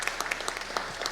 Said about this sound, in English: Let's give Dave Manning a big round of applause.